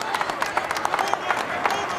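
A boxing arena crowd applauds after a women's title bout, dense clapping mixed with scattered cheers, loud and continuous, with individual sharp claps popping out of the rolling roar.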